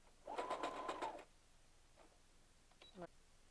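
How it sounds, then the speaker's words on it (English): A sewing machine runs a brief base-stitching burst along the side seam of a pant, about a second of fast even whirring, followed by faint handling clicks in a quiet room. "So now we're going to sew on each side."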